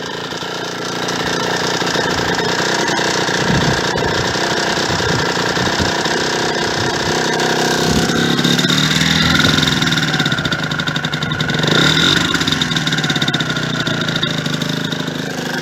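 A Yamaha DT motorcycle engine idles with the choke out, running a little rich in a steady, close mid-pitched putter that rises and falls slightly through the stretch.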